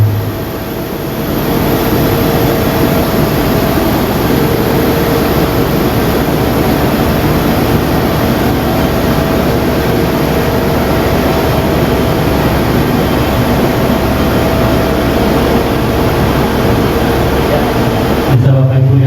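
A Heidelberg Gallus One printing press runs steadily with a dense, loud mechanical roar and hum that holds constant throughout, with no talking over it.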